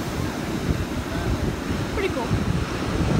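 Ocean surf washing onto a beach in April, a broad continuous roar of waves mixed with gusty wind buffeting the microphone, loud and close throughout.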